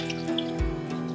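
Soaked tamarind juice is poured into a bowl, giving a brief liquid splash and dribble over a faint steady background hum.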